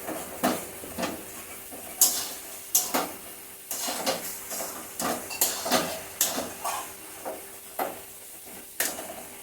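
A steel plate being handled and rubbed with ghee in a home kitchen, giving a series of close, irregular metallic clinks and scrapes at a steady pace, with a faint sizzle in the background.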